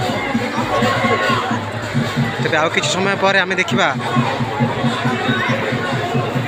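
Dense crowd of devotees at the Hariharpur Melan festival, a steady murmur of many voices with scattered calls throughout, near and continuous, with people talking over it.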